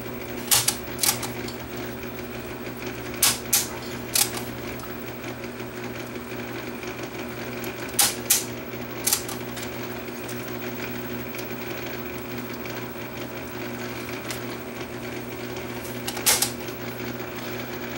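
A Pioneer CTF500 cassette deck under restoration runs in rewind, giving a steady mechanical whir with a low motor hum and occasional sharp clicks and clunks from the transport, close and continuous without speech.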